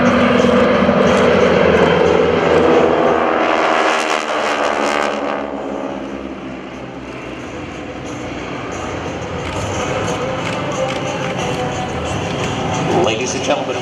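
GEICO Skytypers single-engine planes fly a diamond formation at an air show, a broad steady engine drone that swells early and then levels off, with an announcer talking over it throughout.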